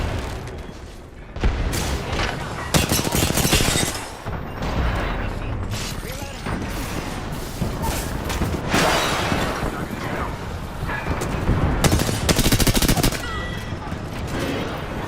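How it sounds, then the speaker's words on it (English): Rifle gunfire in a competitive shooter video game, with bursts of shots and impacts on an enemy shield, loud and dense, mixed with game effects and brief talk. "I shot at an enemy shield."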